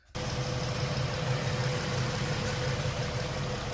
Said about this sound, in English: I can hear the fan going.